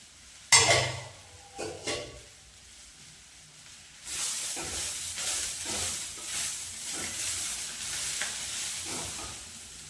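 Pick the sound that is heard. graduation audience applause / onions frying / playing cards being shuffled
onions frying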